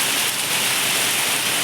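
Heavy rain roars as a dense, unbroken hiss of falling water, steady and close, with no voices.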